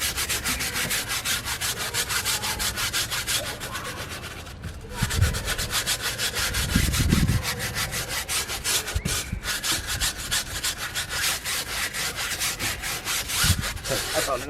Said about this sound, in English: So let's go and start scrubbing then.